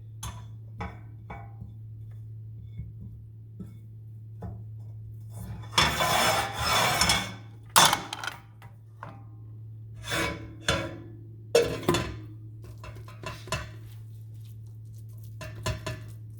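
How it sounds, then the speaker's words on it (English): Vegan sausage mixture is pressed and spread across a pan in bursts of close scraping and rubbing, separated by quieter pauses and small taps, over a constant low hum. "So we're going to spread this all over the pan."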